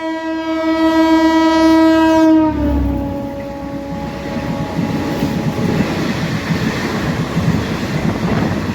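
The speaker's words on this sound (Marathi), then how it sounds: "Parli Sangli demo express crossing Harangul railway स्टेशनवर" A train horn blares loudly in a steady tone for a couple of seconds, then the heavy rumble and clatter of the Parli–Sangli DEMU express passing through Harangul railway station continues.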